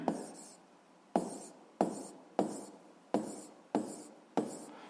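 Chalk or pen strokes while a physics calculation is written out, making seven evenly spaced sharp taps, each followed by a short scratchy drag, close and quiet with no speech.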